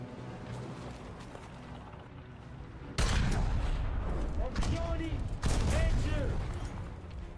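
Two heavy, booming tank cannon shots from a Type 90B Fuji in an online tank combat game, fired a few seconds apart with a short autoloader interval, each followed by rumbling echoes over engine and battlefield noise.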